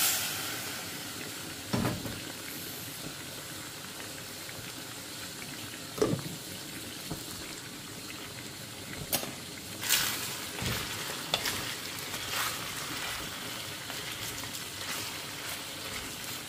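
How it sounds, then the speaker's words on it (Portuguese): A small amount of water is poured into a hot pan of cooking food, giving a steady hiss and sizzle throughout with occasional sharper pops and spatters, fairly quiet and with no talking. "E aí, eu já vou colocar água, pouquinha água, que ela cozinha bem rapidinho."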